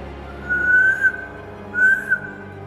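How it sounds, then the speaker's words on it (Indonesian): Someone whistles two short rising notes, one after the other with a brief pause, clear and close against a quiet background. "Lalu aku bersiul."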